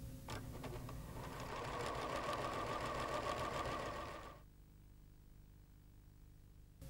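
A Pfaff sewing machine runs a decorative stitch in one steady mechanical whir for a few seconds, then stops, leaving quiet room tone.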